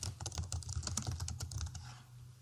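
Quick, light clicking of keys on a computer keyboard, a steady close patter of keystrokes over a low background hum, tapering off toward the end.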